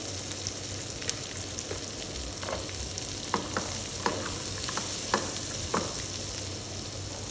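Onions, cashews and tomato frying in a pan for butter chicken sizzle softly and steadily up close, with scattered clicks and taps of stirring.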